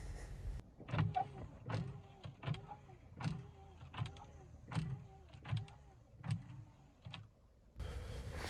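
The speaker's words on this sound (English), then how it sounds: "Wiper blade motor." Windshield wiper motor on a 2005–2010 Volkswagen Jetta, switched on by a scan tool, sweeping back and forth in a steady series of about ten whirring strokes, each ending in a soft thunk, quiet and close inside the car.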